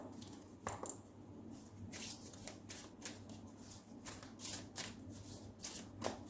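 Tarot advice cards being shuffled, a quiet series of crisp riffling bursts repeating in an irregular rhythm, close and soft, with no voices.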